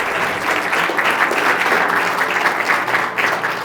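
An audience at an evening public lecture at Caltech breaks into steady, loud applause, a dense continuous clapping that holds evenly throughout without voices.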